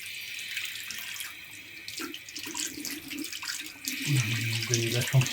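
Tap water runs over a Philips SkinIQ Series 9000 electric shaver as it is rinsed at a sink, a close splashing trickle that thickens toward the end.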